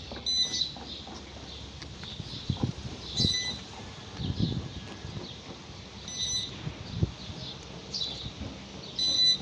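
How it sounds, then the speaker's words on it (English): Short electronic beeps from a large drone's controller, signalling an active connection, repeat at intervals of a few seconds, faint over a rustling, noisy background. "the beeping sound you hear"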